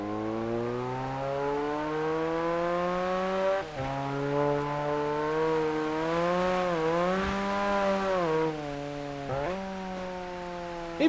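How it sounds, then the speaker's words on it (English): Mazda RX-7 FC engine with an aftermarket exhaust in a JDM driving game, a loud, steady synthetic rotary drone that climbs and dips in pitch through gear changes, with a sharp lift-off dip around four seconds. "this is my first time hearing the FC"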